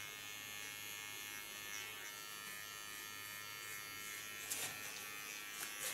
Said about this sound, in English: I go to my small clipper and clean the contour